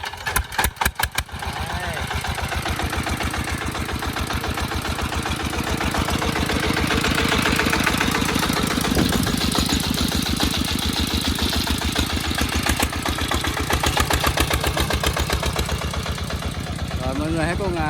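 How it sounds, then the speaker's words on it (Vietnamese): A vehicle engine sputters to life at a rice field after the harvest, then settles into a loud, steady, rhythmically knocking idle close by for the rest of the time. "Đấy, nổ máy về thôi mọi người."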